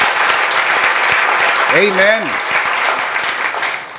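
A church congregation claps in praise to the Lord, loud and continuous throughout, while one voice briefly calls out over the applause.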